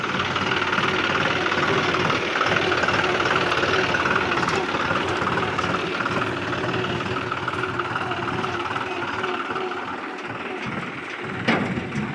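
A diesel tractor engine idles steadily with a low knocking chug during the wheat harvest, continuous and fairly close, with faint background activity.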